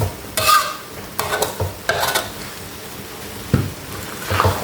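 Pad mee noodles are stir-fried in a pan: several bursts of scraping and tossing with a utensil, each followed by a soft sizzle, close up and uneven in rhythm.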